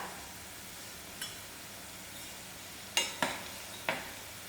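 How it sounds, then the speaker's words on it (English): Sliced okra (bhindi) frying in hot oil gives a faint, steady sizzle, broken by a few sharp utensil clinks near the end. "while my bhindi is frying"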